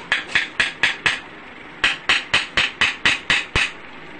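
A 3-inch UPVC pipe is hammered into place with a quick series of sharp, hard knocks, five strikes, a short pause, then about eight more in an even rhythm, close and loud.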